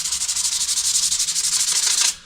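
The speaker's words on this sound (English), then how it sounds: "That's why I don't usually record me doing body work or sanding." Galvanized metal bodywork on a rusty 1957 Chevy is sanded, a loud, close, rhythmic back-and-forth rasp with even strokes that stops abruptly near the end, with no talking.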